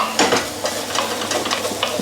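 Caramelized onions and spices cook in a pan for a chicken mushroom curry, with a steady close sizzle and bursts of stirring scrapes throughout and no talking.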